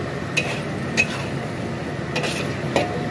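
Mushrooms and sausage being stir-fried in a pan with dark soy sauce, giving a low steady sizzle under a few light clinks of a utensil against the pan.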